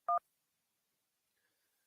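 A single short touch-tone dialing beep sounds on a phone line during a radio call-in show, clean and fairly loud, followed by near silence.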